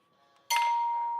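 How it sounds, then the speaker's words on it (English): A bell struck once, giving a bright metallic hit that leaves a clear resonating tone ringing steadily after a quiet lead-in. "It was the resonating of the bell."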